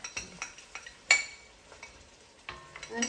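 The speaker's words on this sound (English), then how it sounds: "you normally fry it out until, like, you see that the oil separates" Dry spices and turmeric frying in oil for a chicken curry, with a utensil stirring the pan: a few soft scrapes and clinks, one sharper metallic knock, and only faint sizzle underneath.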